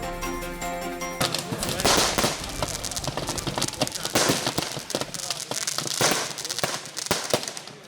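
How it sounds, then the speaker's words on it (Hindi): An illegal stockpile of firecrackers explodes in a village, first a faint tonal background and then rapid, loud, irregular bursts of popping and cracking bangs that continue densely to the end. "विस्फोटकों की तड़तड़ाहट से गूंजा रायबरेली का परिया गांव"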